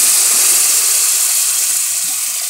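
Water poured into a hot pan of okra stew (Saudi bamiah) sets off a loud, continuous steam hiss that fills the whole moment and fades only slightly as it goes on.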